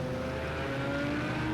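GT3 race cars with turbocharged engines accelerate off the line at Fuji GP Circuit in a racing game, producing a steady mid-level engine drone with a tonal whine throughout.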